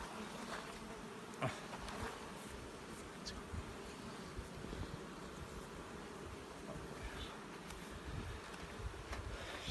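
Dense, steady buzzing of many honeybees close by at a hive, a continuous droning hum with occasional individual bees passing nearer.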